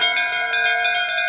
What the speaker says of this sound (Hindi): चलो दोनों एक साथ मिलके इस घंटी को बजाते हैं।